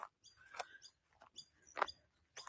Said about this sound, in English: You can see how dry the grass is here. Very crunchy. You can probably hear it.